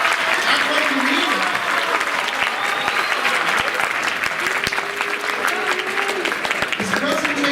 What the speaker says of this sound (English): One more time, give another big round of applause.